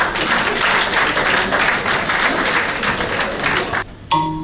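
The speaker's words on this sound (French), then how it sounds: "Merci d'applaudir tout le temps" Audience applause at a regional literature pageant, a dense, steady wash of clapping from a crowd that drops out briefly near the end before a few claps resume.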